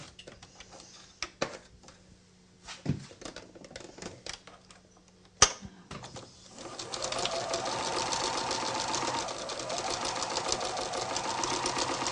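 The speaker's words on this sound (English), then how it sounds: "I'm just going to sew it straight across." A domestic sewing machine runs steadily after a few handling clicks, sewing a straight 1/4 inch seam across a small fabric pocket tissue holder. It whirs on continuously through the second half, close and moderately loud, with no talking.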